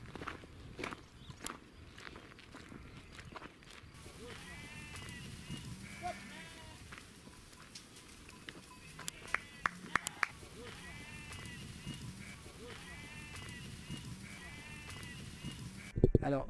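A flock of Landes sheep bleats faintly and repeatedly at a distance amid shuffling footsteps and outdoor ambience, with no talk.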